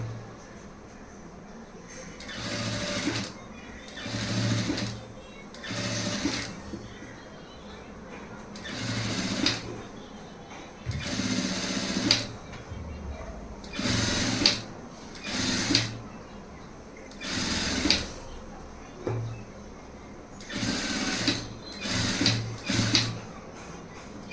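A sewing machine stitching thread-rolled piping runs in repeated short bursts of rapid clatter, separated by brief pauses, near and moderately loud with quiet speech faintly between runs.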